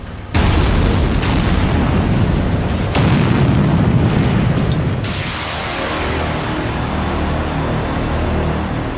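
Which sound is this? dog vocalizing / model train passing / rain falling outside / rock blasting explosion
rock blasting explosion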